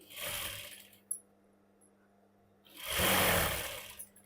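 A sewing machine stitches a princess-cut blouse in two short runs of whirring, rapid motor-driven needle clatter, separated by a quiet pause with a faint hum and a small click.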